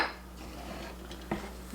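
Dry ingredients, sugar and spices, stirred in a bowl with a utensil, giving soft scraping and a single light clink near the end; quiet and close, with no talking.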